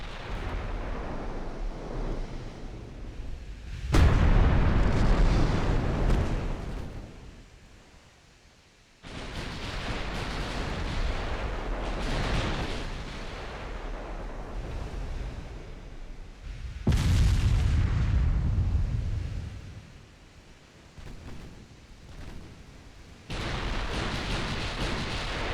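Naval 6-inch and 14-inch guns fire in the warship game Ultimate Admiral Dreadnoughts: several heavy, deep booms spaced seconds apart, each followed by a long rumbling decay.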